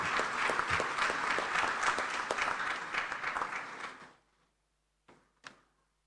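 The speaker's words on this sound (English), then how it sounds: "Please, another round of applause" Delegates at an African inter-parliamentary conference applauding after a speech, a full crowd of clapping for about four seconds that stops abruptly, followed by near silence with two faint isolated knocks.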